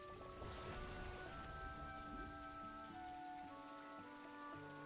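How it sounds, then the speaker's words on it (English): Soft, steady patter of rain in the video game Teddy's Haven, a faint continuous shower heard quietly beneath sustained musical tones. "Ooh, rain."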